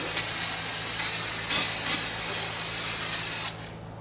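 A can of brake cleaner sprays a steady, fairly quiet hiss for about three and a half seconds, then cuts off, on a Volvo VNL 780 truck being repaired.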